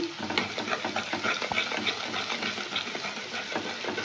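Egg cracked into a bowl with a little salt, beaten with a fork or whisk: quick, steady scraping and tapping strokes close by, continuous and moderately loud with no talking.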